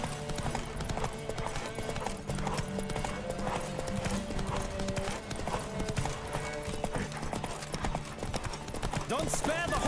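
Horse hooves clatter at a gallop in the open-world action game The Witcher 3: Wild Hunt, a continuous rhythmic clip-clop close up, with a brief whinny and game music underneath.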